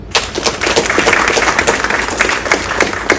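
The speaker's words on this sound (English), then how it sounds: "One round of applause for them." An audience at a wrestling championship ring ceremony bursts into loud, dense applause, sharp claps rattling continuously and close for several seconds.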